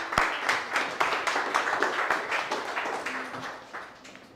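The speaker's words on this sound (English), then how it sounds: "give him a round of applause" An audience at a spoken word poetry event claps for a poet, with a rhythmic, fairly sparse burst of applause that slowly tapers off.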